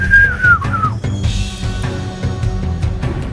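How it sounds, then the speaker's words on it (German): A person whistles a short wavering melody loudly and close up, with music or game sound underneath and no speech. "Pfeifen muss ich auch mal wieder üben."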